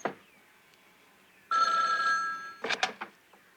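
A telephone bell rings in a quiet room, one sustained ring followed by a short broken burst of ringing, fairly close, with a faint click at the start.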